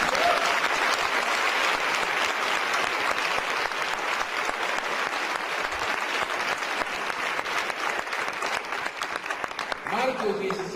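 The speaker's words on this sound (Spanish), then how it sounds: "Dale un aplauso." An audience at a church Resurrection service breaks into sustained, loud applause, a thick continuous clatter of many hands that carries on for several seconds, with voices surfacing near the end.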